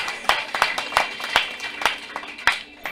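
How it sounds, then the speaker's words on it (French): Loud, uneven clapping from a congregation inside a church during a wedding ceremony, a rapid scatter of sharp hand claps with a few stronger peaks, close and filling the space. "On applaudit le Seigneur pour ça"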